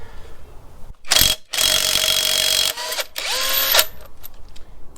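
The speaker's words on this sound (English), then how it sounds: "So we're going to start off with the Makita Knockoff." A Makita knockoff impact wrench works on the lug nuts of a 1-ton Chinook truck, loud close bursts of whirring and hammering with brief gaps and a short final burst.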